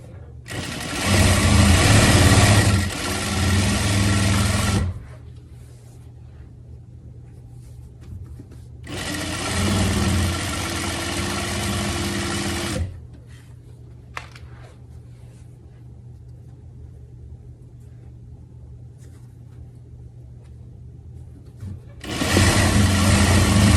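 A sewing machine stitches a dress in three loud bursts of rapid whirring, separated by quiet pauses with a low steady hum in between.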